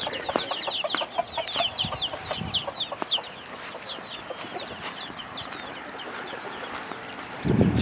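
Chickens cluck and chatter repeatedly in a busy, overlapping flock, fairly close, with no talking.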